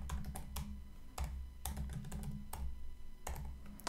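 Keys clack on a computer keyboard as a file name is typed for a Sage theme component, in short quick bursts separated by brief pauses, close and clear over a low steady hum.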